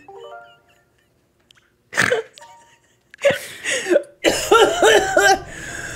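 A player coughs a few times in short, harsh bursts over game sounds while playing The Legend of Zelda: Ocarina of Time at the Fire Temple boss, with quiet stretches between the outbursts.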